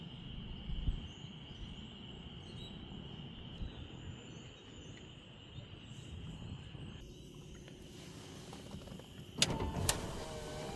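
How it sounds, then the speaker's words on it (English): A power window motor on a 1986 Monte Carlo SS Aerocoupe whirs quietly and steadily inside the car, with a soft buzzing tone and a brief click near the end. "Power windows work."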